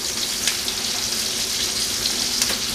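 Garlic, bacon and onion fry in oil and bacon grease, a loud, steady, close sizzle with faint crackles running the whole time.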